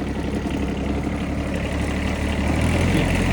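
Engine of a used 2001 Kubota B52 tractor running steadily nearby, a continuous low diesel rumble with little change, growing slightly louder toward the end.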